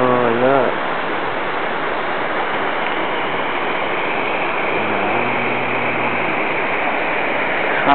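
A waterfall in the Scottish mountains near Fort William makes a steady, even rushing roar throughout, with brief voices heard near the start and again partway through.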